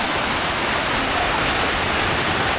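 Light monsoon drizzle falls in a rural village, a steady even hiss of fine drops that holds constant throughout, close by and without any talking.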